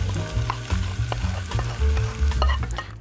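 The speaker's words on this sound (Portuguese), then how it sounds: "E agora juntar a abóbora batida com creme de leite e leite de coco." Blended pumpkin, cream and coconut milk being stirred into chicken pieces and onion in a pan, a steady sizzle with repeated scraping and sloshing spoon strokes, close and without talk.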